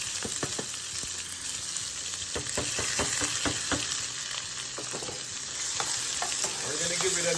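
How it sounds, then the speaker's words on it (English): Ackee and saltfish with seasoning sauté in about a third cup of hot oil, a steady close sizzle broken by repeated scraping clicks of a stirring utensil against the pan. "We're gonna give it a nice saute."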